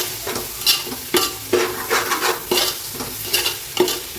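Onions sautéing in oil for a basmati chicken dum biryani, stirred in a regular rhythm of about nine scraping strokes over a constant nearby sizzle.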